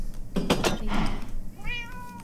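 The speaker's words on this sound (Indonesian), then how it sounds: "Kenapa kucing?" A cat meows close by, a short series of tonal mews with a rising, wavering call at the end, heard alone with no talking.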